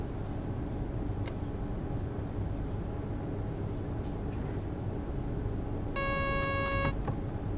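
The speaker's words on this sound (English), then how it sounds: "The Sifa alarm actually makes the microphone indicator on my OBS go all red." The Sifa vigilance alarm in Train Sim World, on an Austrian train in Vorarlberg, sounds as a steady electronic tone for about a second near the end, over a constant rumble of the moving train.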